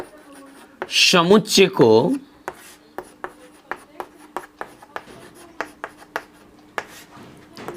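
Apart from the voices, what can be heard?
writing on a board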